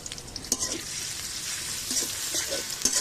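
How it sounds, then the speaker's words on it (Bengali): Chopped onions frying in a little oil in a wok over a clay stove, a steady close sizzle with brief stirring scrapes, no voices. "কড়াইটা ভালোভাবে পরিষ্কার করে এখন পেঁয়াজ কুচি দিয়ে দিয়েছে, সামান্য পরিমাণ তেল দিয়ে দিচ্ছে"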